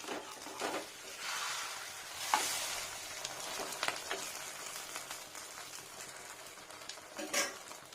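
An egg omelette frying thickly in a pan, with a soft continuous sizzle and occasional scraping and stirring clicks, quiet and close with no talk.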